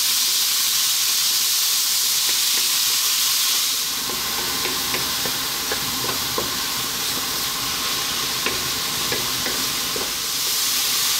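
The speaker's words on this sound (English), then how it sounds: "And our curry leaves, which can be noisy." Curry leaves sizzle and crackle loudly in a hot pan with oil for prawn curry, a steady close hiss with scattered sharp pops and spits and occasional stirring scrapes, no talking.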